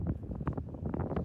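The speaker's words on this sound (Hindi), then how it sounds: "बहुत तेज हवा है भाई यहाँ पे, और बर्फीली हवा सारी मुंह पे आ रही है" Strong, icy wind gusts across the high mountain road at Sach Pass in the Pangi Valley, buffeting the microphone with a loud, continuous low roar and no speech.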